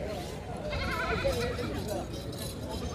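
Goats bleating at a livestock market in Haripur, wavering calls heard amid loud market crowd noise and nearby people talking.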